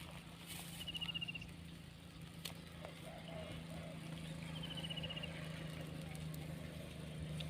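Rain falls steadily at an outdoor fishing spot where crab-baited hooks have been set, a continuous soft patter with a low hum beneath it and a few faint chirps.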